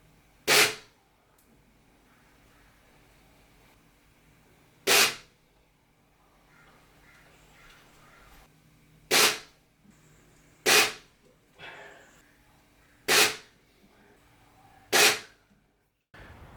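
Six sharp gunshots ring out at a shooting target, spaced irregularly a few seconds apart, each loud, close and abrupt against a quiet background.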